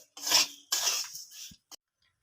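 Semolina and sugar being stirred together in a pan, giving two bursts of close scraping and rubbing followed by a brief clink, with no voices.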